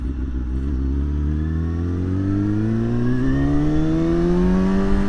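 A motorcycle engine revving up steadily, its pitch climbing smoothly over several seconds, loud and close with no talk over it.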